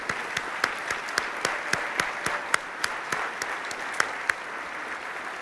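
An audience at an awards ceremony keynote breaks into sustained applause, a dense wash of clapping with sharp individual claps standing out, steady and fairly loud with no talk over it.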